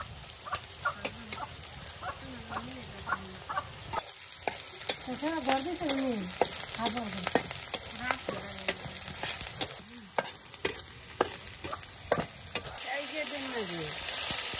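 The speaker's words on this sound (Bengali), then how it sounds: "পেঁয়াজ কাঁচামরিচটা খুব ভালোভাবে ভেজে নিই।" Onions and green chilies fry in oil with a constant crackling sizzle, stirred now and then, in a village kitchen. Faint background voices and animal calls sit under the frying.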